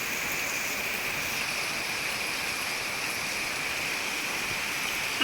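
Heavy outdoor rain pours in a constant, dense hiss with no breaks, steady and fairly close, with one brief louder knock at the very end.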